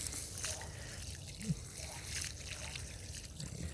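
Water trickles and splashes from a watering can onto potted Reaper and Trinidad pepper plants outdoors, a soft continuous pour with faint drips, close and quiet.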